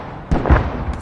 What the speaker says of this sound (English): How did that explosion not kill more?